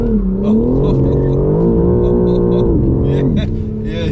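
A tuned BMW M4 G82 accelerates hard with its tires spinning, a loud, steady engine drone with rising harmonics heard up close from inside the car, with a brief dip near the end.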